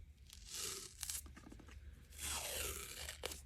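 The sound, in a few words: tearing 1.5 inch white athletic tape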